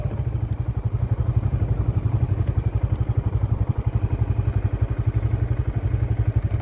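A motorcycle engine running near Imugan Falls in Nueva Vizcaya, a close, loud, steady rapid chugging pulse with a faint clatter that holds its rhythm throughout.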